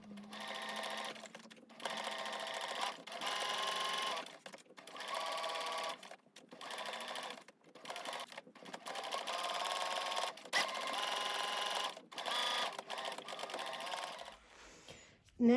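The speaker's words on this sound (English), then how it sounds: "we're simply going to stitch a 5mm seam along here and along here" Sewing machine stitching a 5mm seam through layered face mask fabric, running in repeated bursts of fast mechanical whirring separated by brief pauses, close and clear with no talk.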